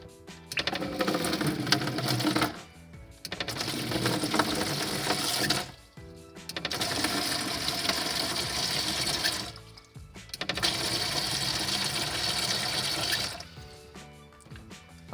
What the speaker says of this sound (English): allowing water to start flowing into my bucket